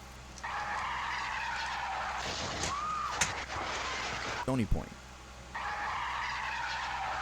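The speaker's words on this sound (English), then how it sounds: "suddenly you hear tires screeching like crazy" A sharp, high tire screech cuts through the hum of a quiet residential street, then a brief burst of crashing impact from a violent car crash in Stony Point, followed by the steady ambient hum returning; a voice speaks briefly.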